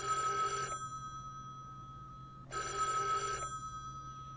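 A telephone bell rings in two bursts, each about a second long, separated by a short pause. It sounds fairly clear and close, with a steady low hum underneath and no talking.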